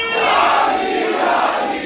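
Mosque congregation loudly chanting religious slogans such as naara takbir and naara haidari during a Muharram gathering, a dense unison roar of many voices held steadily for the full two seconds.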